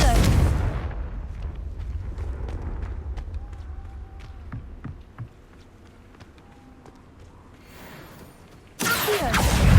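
Confringo fire-spell blasts in the Hogwarts Legacy video game, with loud booming bursts at the start and end and quieter spell effects and footsteps echoing through a cave maze between them.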